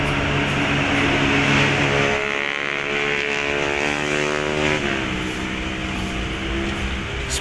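A Hino RK8 bus climbs and corners on an uphill bend, its engine a loud, steady drone with a rising-then-falling pitch as it passes close by.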